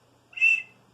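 A single short, clear tone from an emergency whistle kept in a distress kit, blown once for under half a second in an otherwise quiet setting.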